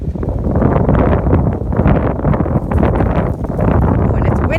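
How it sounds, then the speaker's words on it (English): Strong wind gusts steadily against the microphone outdoors on a sunny day, a loud continuous low rumbling buffet with slight rises and dips that fills the whole stretch. "Oh, and it's windy out here."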